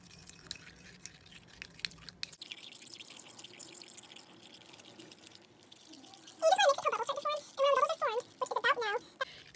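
Thick glue-free slime being stirred and squished, with soft faint movement at first, then louder wet clumping squelches and bubbly pops in quick bursts near the end, close by.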